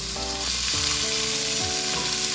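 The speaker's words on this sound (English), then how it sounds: "We're gonna throw it all on in and start cooking." Cut meat fries steadily in a hot pan, a loud continuous sizzle with occasional stirring, close by and with no voices.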